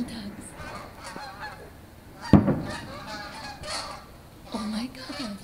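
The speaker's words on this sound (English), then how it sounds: "And ducks." Ducks call outdoors at night near fireworks, giving a few nasal honking quacks with one sharp loud call in the middle, moderately close, over faint background murmur and distant noise.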